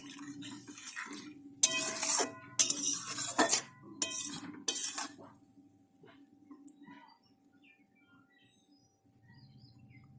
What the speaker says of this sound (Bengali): এটাকে খুব সুন্দর করে আমি সমস্ত মশলার সাথে নেড়ে দেবো